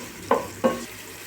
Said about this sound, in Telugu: ఆనియన్ ముక్కలు బాగా వేగితేనే, మంచి కలర్ వస్తేనే బాగా టేస్ట్ ఉంటుందండి.